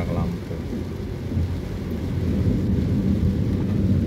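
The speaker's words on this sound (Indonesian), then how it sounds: "Perjalanan kita kali ini hujan ya, hujannya agak lumayan deras sih" Heavy rain pours down during a car journey near the Lampung border, making a loud, constant hiss and drumming with a deep low rumble throughout and no talk.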